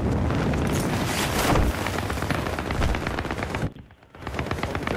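Dense, continuous automatic gunfire during a Battlefield 3 multiplayer battle, rapid rattling shots layered over explosive rumble, with a brief drop in the noise near the end before the firing resumes.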